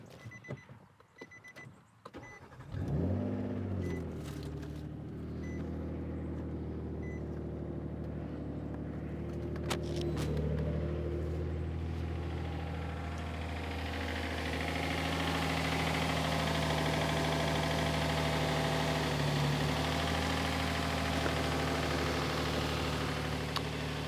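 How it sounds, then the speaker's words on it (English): A 2010 Nissan Maxima's engine cranks and fires after a jump start, catches, then settles into a steady, moderately loud idle that runs on with a faint whine and no talking. "Going to go ahead and jump start it, run the engine and bleed the cooling system"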